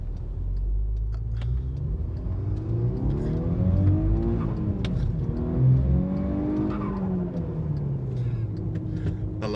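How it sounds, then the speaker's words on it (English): A car accelerates hard onto a motorway, its engine note rising and falling through gear changes in a loud, steady roar heard from inside the cabin, with no one talking. "I'm just going to do a quick little blast here onto the motorway."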